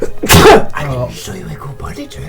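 A man lets out one loud, close sneeze, and talking follows right after.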